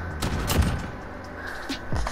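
Gunfire in a shooting video game: a quick cluster of sharp shots near the start, then scattered thumps and further bursts, close and fairly loud.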